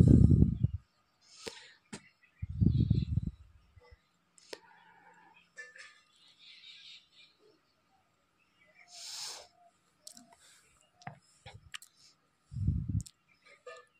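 Soft computer mouse clicks scattered through a quiet room while a flight ticket is booked online, alongside brief bursts of someone speaking Hindi and some faint rustling.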